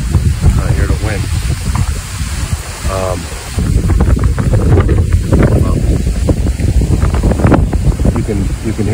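Steady outdoor wind buffets the microphone ahead of an incoming storm, rushing loudly throughout while someone talks over it.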